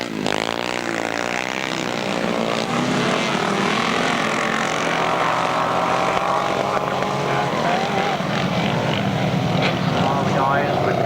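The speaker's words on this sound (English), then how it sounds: "The guys with the small engine, 600 cc's, but my word, doesn't it go." Grasstrack sidecar outfits with 600 cc engines race in 1995, their loud high-revving roar filling the air continuously, with a commentator talking over it.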